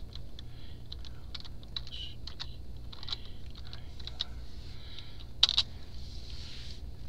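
Keys on a computer keyboard typing metadata while importing a CD audiobook: scattered, light keystroke clicks in short irregular bursts over a steady low hum, with one sharper clatter near the end.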